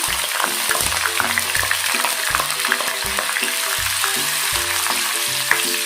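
Finely chopped garlic dropped into hot oil for an aavaram poo soup, a loud steady sizzle close up with rhythmic low clunks of stirring throughout, no voices.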